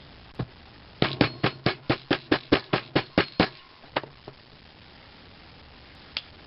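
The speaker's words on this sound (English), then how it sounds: "Hammer the tar out of it." A rapid run of about a dozen sharp metallic hammer strikes setting a snap into leather, evenly paced, then a few slower taps and a final lone hit after a pause.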